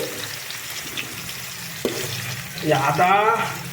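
Garlic and onion frying in a pan, a moderate close sizzle with light stirring and a clink, swelling into louder bubbling crackle toward the end.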